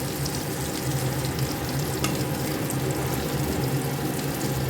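Four homemade fresh fish cutlets frying in oil in a wok, a dense, steady, fairly loud sizzle that holds evenly throughout with one faint clink.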